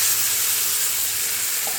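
Tomatoes hit a pan of frying onion, garlic and ginger, giving a steady, bright sizzle that stays loud and even, close up with no talking.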